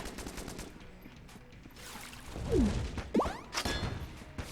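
A tiny gun fires in Enter the Gungeon, scattered quick pops and thwacks amid in-game whooshes and a couple of rising and falling tonal effects, with no talk.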